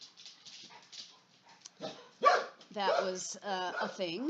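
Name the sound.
dog barking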